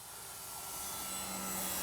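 A Dynam DHC Beaver V2 radio-controlled model airplane flies overhead, its steady electric motor and propeller whine droning and slowly growing louder, with no voices.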